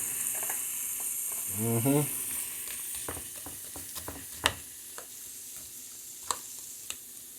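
Shrimp and vegetables sizzle in a pot for spaghetti gumbo, a soft steady fry broken by clanks and sharp utensil knocks, with a brief hum-like vocal sound early on.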